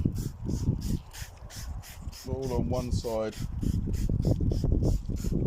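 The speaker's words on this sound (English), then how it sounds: "So I'm going to spray it liberally" Sharp hissing bursts of a quick detailer spray bottle on a dirty car bonnet, several quick pumps close by, mixed with rustling and a voice talking.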